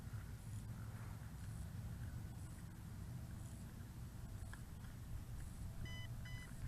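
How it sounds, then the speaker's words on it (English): Holystone HS720G GPS drone sounding compass calibration beeps: a few short, faint tonal bleeps near the end over steady low background rumble, with no talking. "Okay, double beeps first and then vertically. Single beep, a long single beep"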